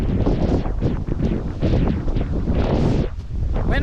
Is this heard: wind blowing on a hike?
yes